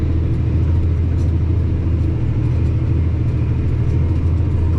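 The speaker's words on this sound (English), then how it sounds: "You can hear the engine note of the tractor start complaining." A tractor engine labours under load while pulling a Simba Solo cultivator across a field being worked for oilseed rape, giving a loud, steady, low diesel drone that holds without letup throughout.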